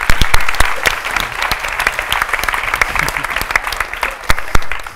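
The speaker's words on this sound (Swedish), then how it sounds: "Välkommen upp Jonathan, en applåd." A room full of people at an entrepreneur event claps to welcome a guest onstage, loud and near, with sharp individual claps standing out over a steady bed of applause.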